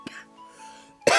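Two short, sharp coughs, one faint at the start and a louder burst at the end, with a quiet tonal background in between.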